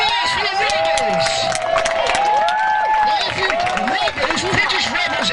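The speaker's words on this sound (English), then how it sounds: "A round of applause for the rebels!" A large outdoor crowd at a Roman-era reenactment show at Old Sarum roars, whoops and claps for the British rebels, loud and sustained, with many voices shouting together.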